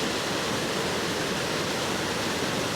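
Floodwater rushes past a flooded wild camp in rainy weather, a loud, unbroken roar that stays close and steady throughout.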